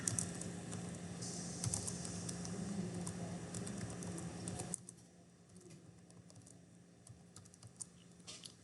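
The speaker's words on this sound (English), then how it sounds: "I'm just going to type those in real quick" Close, quiet typing on a computer keyboard, fast irregular key clicks in a continuous patter for several seconds, then a softer stretch with only scattered taps.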